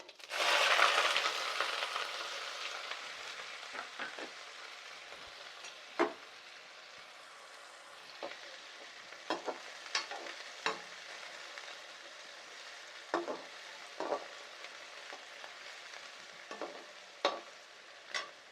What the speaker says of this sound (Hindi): हम प्याज को अच्छे से पकाएंगे, फ्राई करेंगे अच्छे से